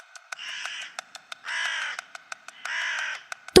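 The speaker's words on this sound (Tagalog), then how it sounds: "Hindi nagtagal ay umalingaw-ngaw ang tunog ng uwak." Three loud, harsh crow caws, each about half a second long, separated by short gaps, with faint clicks between them and no voices.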